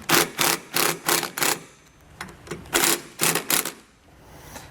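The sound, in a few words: zip tie being pulled tight on wiring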